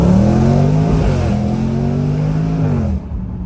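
An SVR Urban car in sport mode revs hard, with a loud, sustained engine note whose pitch rises and falls before cutting off near the end.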